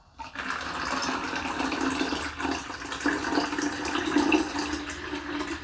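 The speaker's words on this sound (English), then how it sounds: "I've got a litre of cold water here, but we need to just top this up to around about an inch or so from the top" Cold water pours steadily from a litre container into a vessel of homemade tea wine, a continuous close splashing and trickling stream running unbroken for several seconds with no talk.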